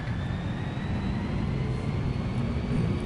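The jet engines of a PMDG 747 in a flight simulator roar steadily at TOGA thrust, a broad, loud, sustained whine and rumble with no voices.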